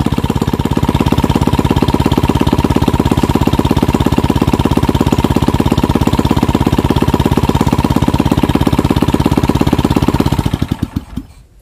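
Old kick-start motorcycle engine with no ignition switch, idling loud and close in a rapid, even chug for about ten seconds, then sputtering to a stop with a few final knocks as the spark plug is pulled.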